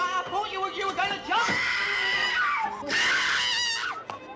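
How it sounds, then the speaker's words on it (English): A person screams in a scene from a 1967 British comedy film, letting out loud, drawn-out, wavering high cries in two long bursts, close and piercing. "What's all the screaming?"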